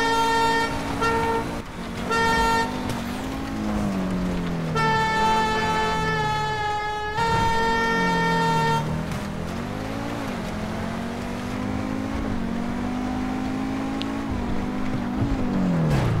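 Vehicle horns honking inside the video game GTA 5, several sustained toots in bursts over a droning engine and traffic rumble, fairly loud, with no talking.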